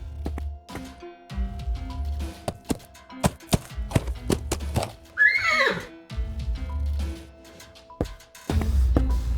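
A horse neighs in the Willy Morgan and the Curse of Bone Town adventure game, a rising, wavering whinny in the middle of scattered taps and thuds, with no speech.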